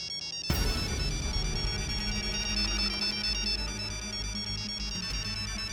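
A phone rings with an electronic ringtone as a kidnapper's call comes in, a sudden clear tonal melody that starts abruptly and repeats steadily and close by.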